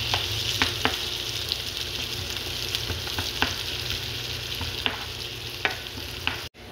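Garlic and tomato sauté in hot oil as the base for a mung bean stew, a loud continuous sizzle with scattered light spatula clicks and stirs, ending in an abrupt cutoff.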